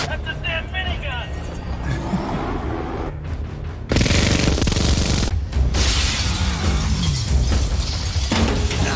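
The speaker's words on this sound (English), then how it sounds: "That's a damn minigun!" A minigun fires in Terminator 2: Judgment Day (1991), a loud, dense mechanical roar that breaks in midway and keeps going, with people talking over it throughout.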